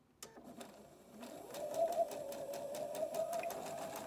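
A sewing machine stitches fabric pieces held under the presser foot for a one-size scrub cap, starting with a few clicks, then running in a rapid, steady rhythmic whir close by, with no voices.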